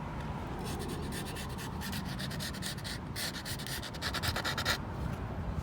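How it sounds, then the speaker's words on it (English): Sandpaper rubbing by hand over curb damage on an 18-inch Tesla Model 3 wheel, a loud, close, continuous scratchy grinding with quick back-and-forth strokes, no talk. "so I don't think I'm going to be able to sand this down far enough to get rid of all the scratches."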